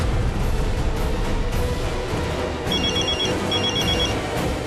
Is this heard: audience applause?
no